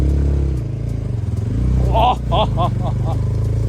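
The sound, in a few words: NS 200 motorcycle riding on a rough road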